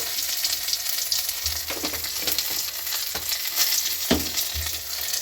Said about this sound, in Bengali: গরম তেলে তেজপাতা দিয়ে দিলাম, গোটা জিরে দিয়ে দিলাম, আর ছোটো এলাচ দারচিনি দিয়ে দিলাম